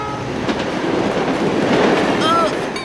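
A cartoon high-speed train races past at full speed, with a loud rushing rumble and a faint clickety-clack of wheels on the rails, then brief high squeals near the end; there is no talking.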